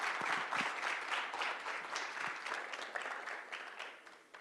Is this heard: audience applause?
yes